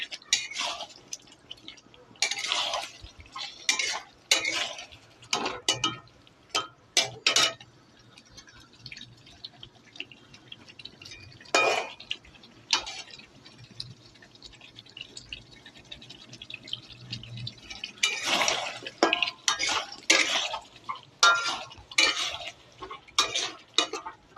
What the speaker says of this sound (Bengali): যতক্ষণ না আলু সিদ্ধ হবে কষাতে কষাতে ততক্ষণ কষাতে থাকবো